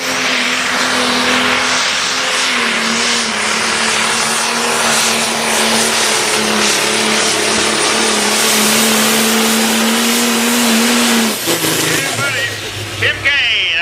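A pulling tractor with a red Case IH engine revs loudly and steadily at a fairground tractor pull, a high sustained drone that holds for several seconds, then drops off abruptly near the end under crowd and announcer noise.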